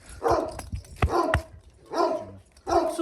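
A dog barks and yips in short, excited bursts, about four sharp barks in quick succession at close range, with brief whimpering tones between them.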